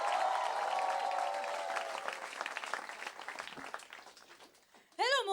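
An audience claps and cheers for a comedian at a stand-up show in Mumbai, with loud applause that gradually thins and fades out, under an announcer's voice, before a new voice begins.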